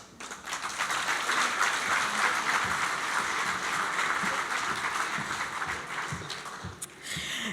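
A Chamber of Commerce breakfast audience in San Francisco breaks into applause, a full wash of clapping that swells quickly, holds for several seconds and then tapers off near the end.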